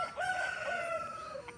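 A two-year-old rooster of about 3.5 kilos with good plumage crows once at a village rural poultry haat in Jhargram, West Bengal, a single long, drawn-out cock-a-doodle-doo that is clear and moderately near.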